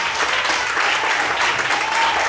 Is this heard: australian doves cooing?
no